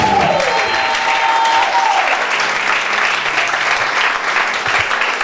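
Loud, sustained applause and cheering from a church congregation during a sermon, a dense steady roar of clapping with no pauses.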